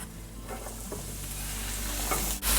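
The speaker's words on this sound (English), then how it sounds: "I'm now going to add in all our vegetables all at once." Onion, celery and bell pepper hit hot oil over medium-high heat, and a loud, steady sizzle follows with stirring scrapes and a sharp clatter near the end.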